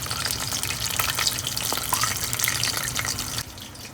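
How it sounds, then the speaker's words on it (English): Steady crackling sizzle of a block of instant ramen noodles deep frying in hot oil, dense and continuous throughout, easing slightly near the end. "I love this, the oil deep frying sound."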